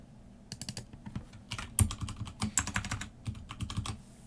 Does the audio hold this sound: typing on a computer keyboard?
yes